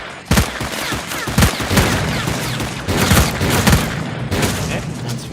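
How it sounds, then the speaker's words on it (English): An SMG in S.T.A.L.K.E.R.: Clear Sky fires several short, loud bursts of rapid shots close by, separated by brief pauses amid ongoing game noise. "Short bursts are, of course, the optimal solution with a SMG like this."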